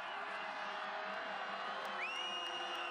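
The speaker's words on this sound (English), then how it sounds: "Crowd gets into it." A football stadium crowd at a North Dakota State versus Weber State college game in 2014 roars and cheers steadily, with whoops rising above the dense, continuous noise.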